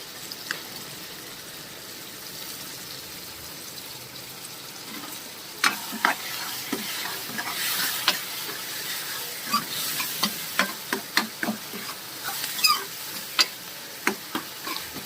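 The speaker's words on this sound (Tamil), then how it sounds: "இது கொஞ்சம் வதங்குற வரைக்கும் நான் அப்படியே விட்டுருவேன்" Tomatoes for fish curry sauté in a pan with a low, continuous sizzle. In the second half a spatula scrapes and taps the pan in quick repeated strokes.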